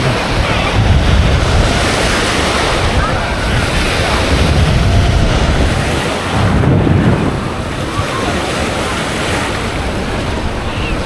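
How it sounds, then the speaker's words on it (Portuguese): Ocean waves wash steadily onto a beach at Canasvieiras, Florianópolis, a continuous loud surf roar with swells rising and falling, mixed with wind buffeting the microphone. "Olha a onda."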